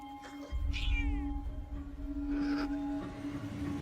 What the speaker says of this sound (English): And the male growled at the female like Church.